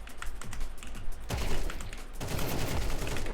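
Counter-Strike 2 match with dense, close bursts of rapid gunfire crackling continuously, punctuated by a few heavier shots and no talking.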